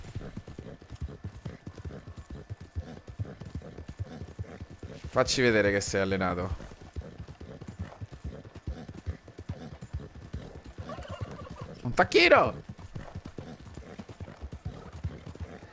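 Steady rhythmic hoofbeats of a galloping horse in the video game Red Dead Redemption 2 run throughout, with two loud whinnies, while someone talks over it in Italian.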